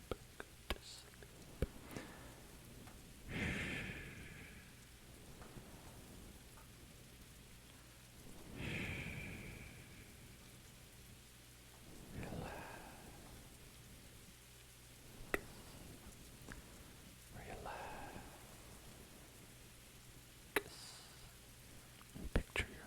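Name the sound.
rain on a car on a rainy night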